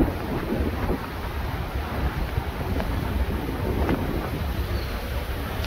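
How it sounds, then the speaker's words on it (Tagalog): Strong wind buffets the microphone in a steady, roaring rush with gusty swells, no voices heard. "Ang lakas ng hangin."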